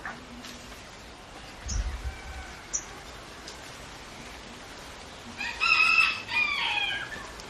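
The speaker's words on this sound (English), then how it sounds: "It was the rooster, I think. A rooster." A rooster crows in a rural village setting, a drawn-out call rising near the end after scattered fainter bird sounds and a low thump earlier, heard at moderate distance with no talking.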